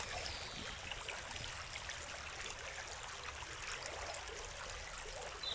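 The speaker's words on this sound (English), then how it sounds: "this lovely river has a lovely sound." A river flows steadily nearby, a continuous soft rushing and trickling of water at fairly low level, with no talk or other sounds over it.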